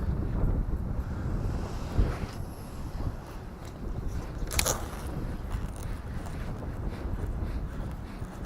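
Wind buffets a microphone outdoors on a lake from a fishing boat: continuous low rumbling gusts, loud and close, with no clear sound behind them.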